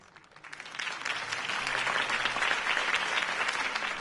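Crowd applause after a campaign speech by Harvey Dent in a Batman video game, rising from quiet into a full, dense roar of many hands clapping that carries on at a steady level.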